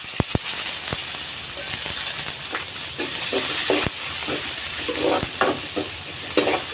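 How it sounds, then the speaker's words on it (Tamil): Finely chopped onions fry in hot oil for a chicken dish, hissing in a continuous bright sizzle while a spoon stirs and scrapes the pan with sharp clicks and knocks scattered throughout. "இப்போ வெங்காயம் போட்டுக்கலாம்."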